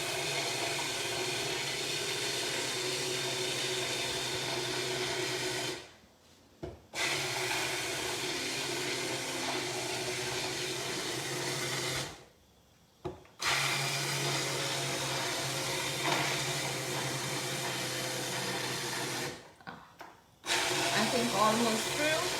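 A hand blender purees tomato soup in loud, continuous whirring bursts, stopping abruptly three times for a second or so before starting up again, with a person talking faintly underneath.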